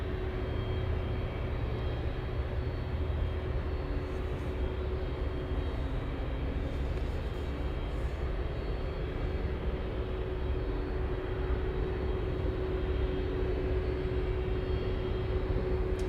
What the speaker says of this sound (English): I'm hearing something power up, you guys. I think I'm hearing a 777